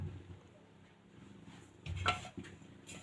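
Aloo matar salan is stirred in a cooking pot: a few soft scrapes and clinks of a spoon against metal, faint over a quiet kitchen background.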